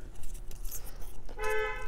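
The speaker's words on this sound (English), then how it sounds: "You guys hear that aggressive honking?" A car horn honks outside at about 1.4 seconds and holds to the end, with a steady tone, following a stretch of indoor background noise and faint clatter.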